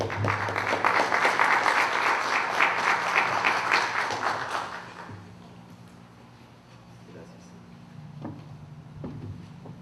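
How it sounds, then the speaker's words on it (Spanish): An audience claps to welcome a speaker at an arbitration seminar, a dense burst of applause lasting about five seconds before fading into a quiet room hum with a few faint sounds. "recibimos con un fuerte aplauso"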